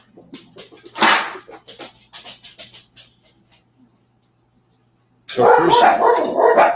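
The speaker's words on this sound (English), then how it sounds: "That's my dogs. They're barking at other dogs outside." Dogs bark at other dogs outdoors in a loud, dense burst near the end, after a stretch of someone talking and a short quiet pause.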